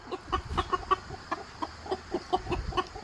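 Backyard chickens cluck in a rapid, repeated series of short calls, close and clear, with a rooster among the flock; no one speaks.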